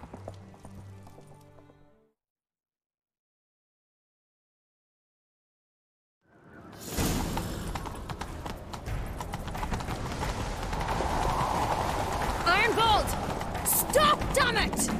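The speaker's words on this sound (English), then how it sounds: "Grab a horse, we'll chase him down." After a stretch of silence, horse hooves pound in a fast, rhythmic gallop with rumbling movement, steady and close, continuing to the end, in The Witcher 3: Wild Hunt.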